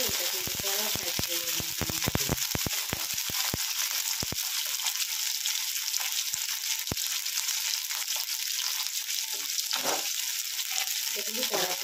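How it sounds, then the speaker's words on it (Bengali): Okra fries in a wok, a loud, dense sizzle with rapid clattering stirs early on and scattered scrapes later, and a voice talking faintly under it. "এটা কিন্তু কড়া ভাজবে।"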